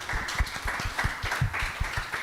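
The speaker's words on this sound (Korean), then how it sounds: "박수로 모두 축복하도록 하겠습니다." A church congregation at a combined youth and young-adult worship service applauds together, a dense, steady mass of clapping filling the room without pause.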